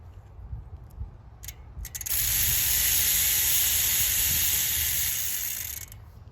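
A short burst of WD-40 aerosol spray onto a bike chain, preceded by a few clicks and ratcheting chain movements, then a steady close hiss lasting about four seconds before cutting off.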